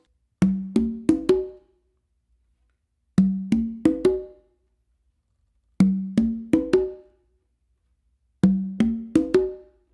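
Four groups of ringing open conga tones, each a quick run of three or four hits stepping up in pitch across the drums starting from the requinto, separated by silence.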